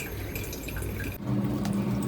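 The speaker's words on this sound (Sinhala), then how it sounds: "තව චුට්ටක් තියලා මම කිරි දානවා" Coconut milk made from powder dissolved in a little water, poured into a curry for string hoppers in a kitchen, a steady close liquid stream and splash running throughout.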